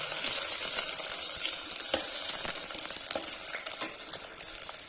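Finely chopped ginger, garlic and chilies frying in a pan for hotel-style manchow soup, a loud steady sizzle with light scraping from stirring, no one talking.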